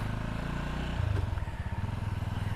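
A Sothassi Classic 400 motorcycle engine chugs steadily at low revs while riding, with a rumbling, pulsing exhaust note close up and some wind noise, in Pakistan.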